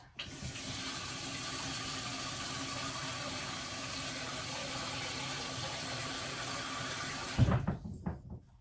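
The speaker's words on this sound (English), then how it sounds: "I generally will fill it about half full of water." Tap water runs steadily into a cooking pot for ginger tea, a continuous close hiss and splash that holds for about seven seconds before the flow stops and the pot is moved with a few knocks.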